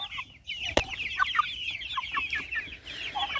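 Hens and roosters cluck in a busy, overlapping chorus, with several birds calling close by in quick, irregular bursts over a faint farmyard background.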